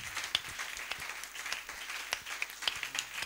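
A church congregation applauding in praise of the Lord Jesus, a soft, fairly distant patter of many hands clapping steadily with a faint voice underneath.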